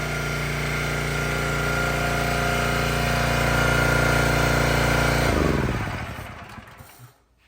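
A Kohler-powered 30-ton log splitter engine runs loud and steady at close range, then shuts down and winds to a stop over its final two seconds.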